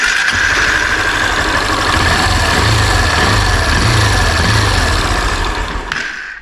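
A Honda CB300R motorcycle engine, whose cylinder head is cracked, idles steadily and loudly up close, a continuous even rumble with faint pulsing that tapers off at the end.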